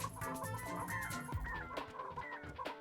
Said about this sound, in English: It's just chickens.